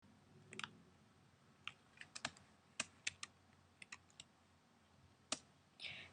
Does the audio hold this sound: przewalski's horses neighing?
no